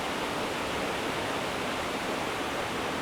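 A river rushes in full spate on a winter day, a dense, unbroken roar of turbulent water with no pauses or distinct splashes, loud and close throughout.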